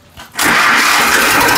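A used 20 to 50 HP farm tractor diesel engine cranks briefly and catches, then settles into a loud, steady close-up running roar.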